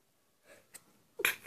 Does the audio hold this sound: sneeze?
yes